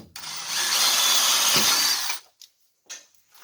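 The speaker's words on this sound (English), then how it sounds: "Wherever you have a center punched hole, you're going to drill a 3/8 inch hole" A power drill whines steadily for about two seconds as it bores a 3/8 inch hole at a center-punched mark, then stops, followed by a few faint clicks and short bursts of handling noise.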